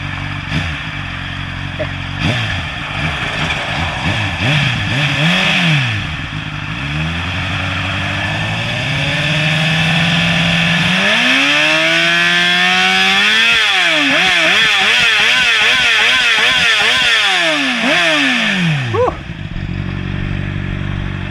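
A Honda CBR600RR sport motorcycle engine revs repeatedly up and down, loud and close, with a long sustained high-rev run near the end.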